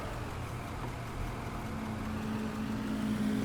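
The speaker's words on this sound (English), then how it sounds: "Loud motorcycle." A loud motorcycle passes close by, its steady engine rumble droning evenly with a rising tonal whine near the end. No one speaks.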